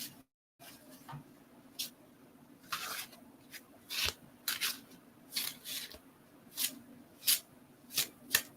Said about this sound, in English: I am trying so hard to shuffle these cards very silently